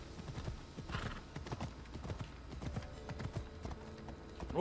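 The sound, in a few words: horse hooves clip-clopping while riding in a video game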